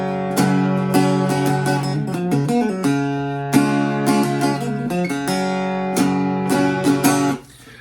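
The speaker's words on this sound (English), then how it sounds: "I'll play a little tune for you just so you can hear how good it sounds without even being plugged in" A short tune picked on an unplugged electric travel guitar, a string of thin, bright plucked notes and brief strummed chords at close range, ending with a quick fade.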